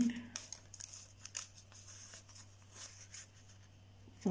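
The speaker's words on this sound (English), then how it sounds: "Cut it from here carefully" Scissors cut paper for a paper craft house, with a few soft snips and crinkles close by under a steady low hum, and a brief voice at the edges.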